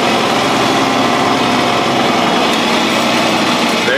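John Deere 4020 tractor engine running steadily in sixth gear as the clutch is released, a loud continuous close engine drone with no breaks and no talking.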